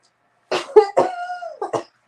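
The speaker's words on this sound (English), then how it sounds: "She's got a cough." A person lets out a short cluster of hoarse, wet coughs close to the mic, several quick bursts in under a second and a half, alone in quiet surroundings.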